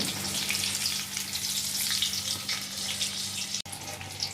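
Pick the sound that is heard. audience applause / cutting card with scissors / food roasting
food roasting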